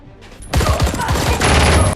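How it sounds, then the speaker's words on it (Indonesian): Dense automatic gunfire erupts suddenly in an action film scene, a loud, continuous fusillade of rapid shots lasting about a second and a half, close and alone. "Ada yang menembak mereka dari belakang."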